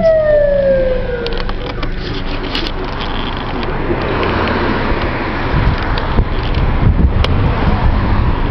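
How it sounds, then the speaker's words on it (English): Sirens wail and fade as police vehicles pass by, followed by a loud rumbling rush of traffic that builds toward the end. "These are all police cars, and there are tons of them behind."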